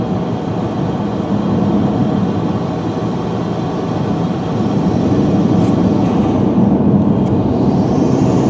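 A Chevrolet Cruze engine surging while driving through snow, a loud continuous low drone of engine and road noise heard from inside the car, steady with a slight swell partway through, no voices.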